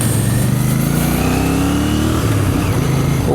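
A Royal Enfield Bear motorcycle engine revs and accelerates up a valley road in second gear, a steady loud mid-pitched drone with rising tones and wind rush, no talk.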